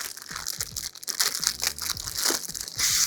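Packaging of an ITECH ceiling TV mount (CELB-54N or CELB 202R) being opened up close, with bursts of crinkling, crushing and tearing of cardboard and plastic, and no voices.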